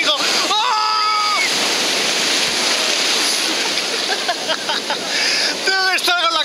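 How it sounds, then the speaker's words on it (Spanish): Huge 12-metre ocean waves crash in a continuous loud roar of surf, with excited voices shouting over the water. "Olas de 12 metros, esto es una locura"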